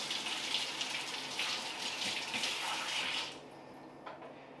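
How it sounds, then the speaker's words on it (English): Cold tap water runs steadily over a deer skull being rinsed after the jaw is removed. The close, hissing splash is fairly even for about three seconds, then cuts off to quiet with a faint drip. "Just giving it a rinse with cold water"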